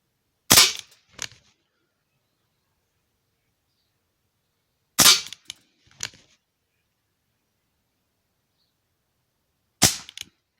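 An Umarex Tornado air gun fires pellets in three sharp, isolated shots several seconds apart, each a crisp crack followed by a quick metallic click of the pellet striking, with silence between.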